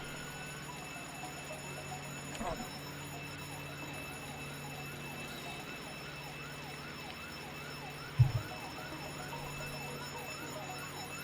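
Police car siren in the Roblox game ERLC, a faint wailing siren sweeping up and down repeatedly under game ambience, with a couple of brief thumps.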